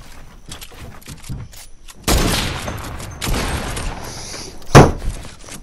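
A drum gun fires in Fortnite as rapid bursts of gunfire, close and loud, with a sharp impact near the end and game noise between bursts.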